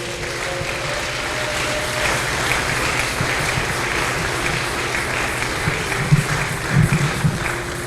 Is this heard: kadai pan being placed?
no